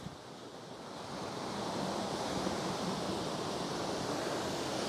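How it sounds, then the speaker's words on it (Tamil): Rushing water is heard at a site about 1900 feet above sea level in Sri Lanka, a dense continuous roar that swells slightly after the first second and stays loud and steady, with no voices. "வந்துட்டு தண்ணி சத்தம் தான் வந்து அதிகமாக வந்து கேட்குது."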